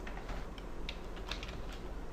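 Light typing on a computer keyboard, a run of soft irregular key clicks over a steady background hiss, close but quiet, with no voices.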